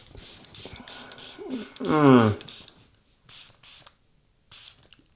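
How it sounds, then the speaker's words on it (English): A pink D'Alba face mist bottle sprays in several quick, airy bursts at close range, pausing between pumps. A voice briefly speaks in the middle. "This will be D'Alba first spray. This is the pink one. It just has the best sprayer"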